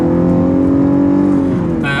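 A 2015 Cadillac ATS Coupe with a 3.6-litre V6 and rear-wheel drive taking a corner, its engine holding a steady, loud drone at near-constant pitch, with a brief rise of tyre or wind noise at the very end.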